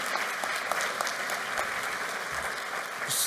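Audience at a GED graduation ceremony applauding, a dense, steady wash of clapping that holds at even strength throughout, with no speech over it.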